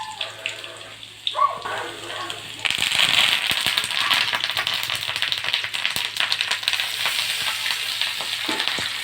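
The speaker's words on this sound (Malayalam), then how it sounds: "ഒരു 2 തണ്ട് കരിവേപ്പിലയും അതുപോലെ തന്നെ 2-3 വറ്റൽമുളകും കൂടെ അതിനകത്തിട്ട് ഒന്ന് മൂപ്പിച്ചെടുക്കാം" Curry leaves and dried red chillies hit hot oil while making Onam sadya sambar, a sudden burst of loud, steady sizzling and crackling that carries on close by after a brief quieter start.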